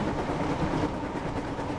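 The engine James runs along the track in a Thomas and Friends video game, a dense, steady rolling rumble with faint clickety-clack, loud and continuous throughout.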